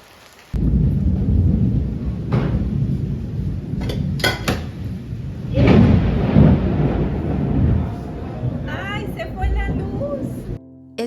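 Rain falling outside a house during a thunderstorm, a continuous loud wash of rain with rumbling thunder swells and some clattering near the end, heard close.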